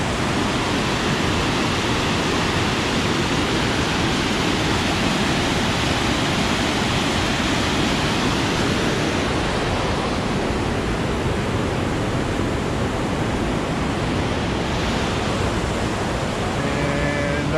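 Water in Big Possum Creek rushes beneath the 60-foot Big Possum Creek Bridge on a gorge trail, making a loud, steady, unbroken roar with no voices.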